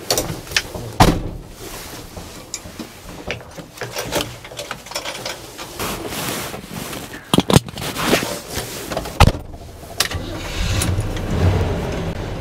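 A 1981 Chevrolet K10 Stepside 4x4 pickup runs on a test drive, its engine a steady mid-level drone inside the cab, broken by several sharp knocks and clunks and a brief swell near the end, with no talking.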